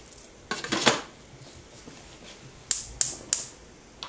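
A metal lid set onto a cooking pot on a kitchen stove, with a cluster of soft clatters followed by three sharp, close metallic clinks as it settles.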